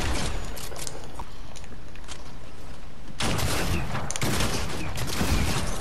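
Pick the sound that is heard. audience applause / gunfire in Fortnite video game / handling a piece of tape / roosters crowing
gunfire in Fortnite video game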